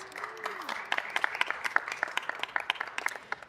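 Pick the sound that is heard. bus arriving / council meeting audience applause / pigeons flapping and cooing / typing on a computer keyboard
council meeting audience applause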